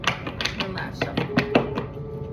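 A short run of papery cards flicking and tapping together in quick succession, close by, over about two seconds.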